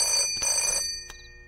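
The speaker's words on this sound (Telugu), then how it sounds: "మీ వాడెవడో పొద్దు నుంచి ఫోన్ చేస్తున్నాడు." A telephone bell rings in two short bursts with a third brief ring, loud and close, with no voices.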